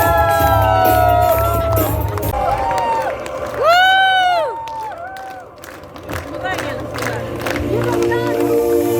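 Festival audience claps for guests being introduced at a theatre festival welcome ceremony, scattered applause and crowd noise beneath loud announcing voices and music, steady with a brief dip midway.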